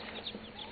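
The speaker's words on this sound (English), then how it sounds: "So that's 55 chickens there." Clucking from a flock of about 55 backyard chickens in a shelter, soft and continuous under a steady noisy background, with a couple of brief louder calls.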